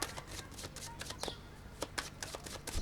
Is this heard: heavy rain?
no